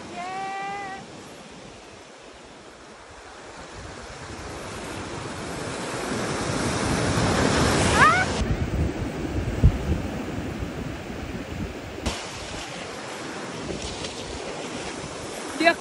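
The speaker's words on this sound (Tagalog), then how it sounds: "andito na ako sa maalon na part" Rough ocean surf crashes onto a beach, building from a soft wash into a loud, sustained roar of breaking waves with heavy wind buffeting the microphone, no voices.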